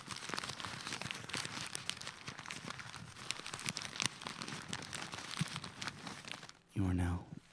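Sheets of paper from fan mail crinkle and rustle in a steady, close stream of dry crackles, with a louder burst near the end and speech running faintly underneath.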